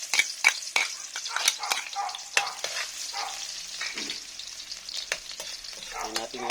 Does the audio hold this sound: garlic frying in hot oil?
yes